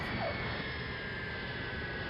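A space shuttle orbiter gliding in to land, a steady broadband roar of rushing air and engine-like noise, loud and unbroken throughout, with no speech.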